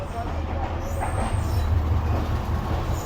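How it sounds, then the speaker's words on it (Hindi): The Rehman Baba Express runs through a junction without stopping, heard from on board as a steady low rumble of wheels on rail with rattling carriages, continuous and fairly loud. "ट्रेन फाइनली बगैर रुके निकल रही है कोठी जंक्शन से।"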